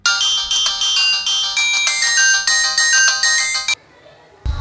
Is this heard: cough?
no